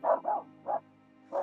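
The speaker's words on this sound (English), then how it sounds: "barking at nature." A Finnish Spitz barks in short, sharp bursts, two quick barks, then one, then another after a pause, fairly close and alone, outdoors.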